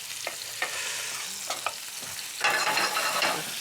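Duck gizzard sautés in a hot pan with a steady sizzle, punctuated by several short scraping stirs. Near the end the frying swells louder and brighter.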